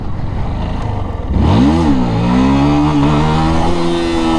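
A motorcycle idles, then its engine revs up sharply into a loud, rising roar that settles into a steady high drone during wheelie practice, close and with no talking.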